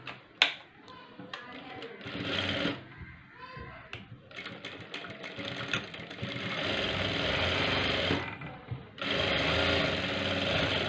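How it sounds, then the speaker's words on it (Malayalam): A sewing machine stitching blouse fabric, heard as a loud, fast mechanical rattling run that starts, pauses and resumes in several stretches, close by. "ഒന്ന് സ്റ്റിച്ച് ചെയ്തെടുക്കുക"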